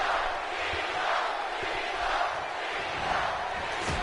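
Steady roar of a wrestling arena crowd cheering in WWE 2K17, a dense continuous wash of voices at even loudness throughout, with no single speaker standing out.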